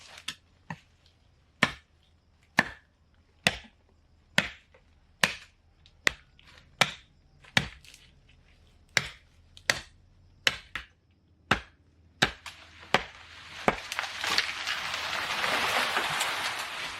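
Branches are chopped off a harvested timber pole in about fifteen sharp, evenly spaced strikes roughly a second apart. A broad rushing noise swells near the end.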